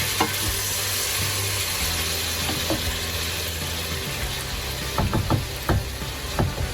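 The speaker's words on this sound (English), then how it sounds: "Just stir it." Vegetable biryani mixture frying in a pot, a steady loud sizzle throughout with scraping stirring strokes and clinks of a spoon against the pot, busier toward the end.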